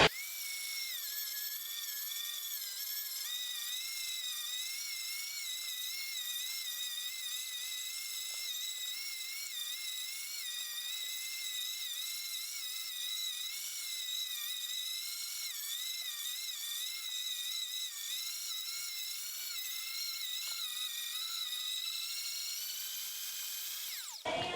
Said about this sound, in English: a wonderful mincer. It is fairly low price, low power draw, high powered, and it just works really well.